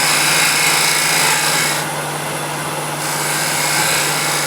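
A half-inch spindle gouge cuts a cove into a spinning wood plate on a lathe, a steady loud rasping whir with a low motor hum beneath, easing briefly in the middle before resuming.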